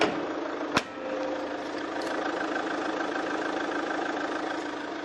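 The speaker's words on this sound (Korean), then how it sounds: "경유 엔진 치고 진짜 조용한 엔진 소음이고요" A diesel full-size SUV engine idles quietly and steadily, with a single sharp click near the start, then an even, close, low hum with no speech.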